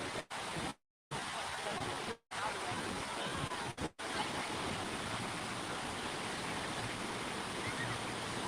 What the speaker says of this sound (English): What about the sound of the waves?